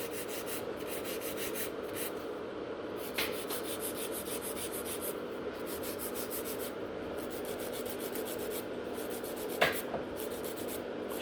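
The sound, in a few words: nail file reshaping fingernails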